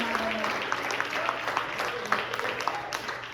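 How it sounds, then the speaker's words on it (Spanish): Church congregation applauding during a service, a dense patter of clapping hands at moderate distance that continues steadily throughout. "Dele palmas al Señor"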